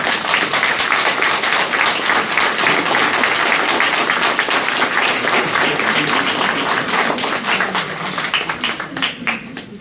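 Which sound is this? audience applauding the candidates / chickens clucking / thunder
audience applauding the candidates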